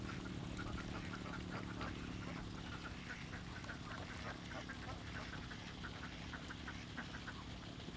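Ducks quack in a rice paddy where azolla is grown, with many overlapping calls from a flock under a constant background hiss of wind or water, moderately distant.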